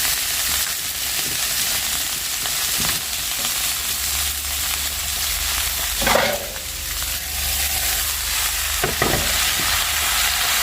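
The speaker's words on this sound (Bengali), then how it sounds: "এদিকে আমি আলু ভাজাটা কমপ্লিট করে রেখে" Potatoes frying in a pan during a busy home morning in the kitchen: a continuous loud sizzle with occasional stirring scrapes and a few sharper clatters, no talking.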